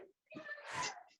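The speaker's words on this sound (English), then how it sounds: "I'm going to sneeze." A single person sneezes nearby at a desk, a short quick inhale followed by a breathy, burst-like sneeze, fairly quiet and over in about a second.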